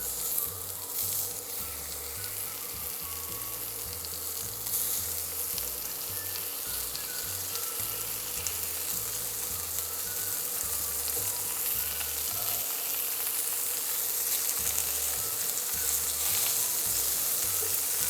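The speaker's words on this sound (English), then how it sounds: "the idea is to brown the meat" Pieces of pork seasoned with black pepper brown in a hot pan, giving a continuous steady sizzle and crackle with a faint rhythmic hum beneath. No one speaks.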